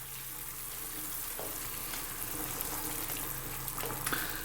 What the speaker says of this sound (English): Now let's give it a little stir.